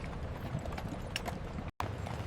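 Cart horses hauling goods through the streets of 1860s industrial Manchester, a busy run of hoof clip-clops at a steady walking rhythm, moderately close, with a brief dropout near the end and no voices.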